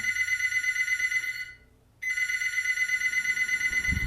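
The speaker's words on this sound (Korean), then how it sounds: "오늘도 어김없이 벙커에 전화가 걸려왔습니다" A telephone in a studio bunker set rings with a loud electronic warble, broken by a brief pause before the ringing resumes.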